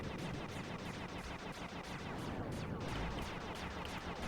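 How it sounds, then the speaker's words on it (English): Massive rapid-fire turrets in Sly 2 unleash dense, continuous gunfire, a relentless rattling barrage that stays loud and unbroken from start to finish. "mainly to help us defend ourselves against these massive rapid-fire turrets"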